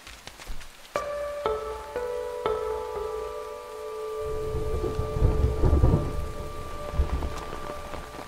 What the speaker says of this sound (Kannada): ಮುಂಗಾರು ಮಳೆಯೋ.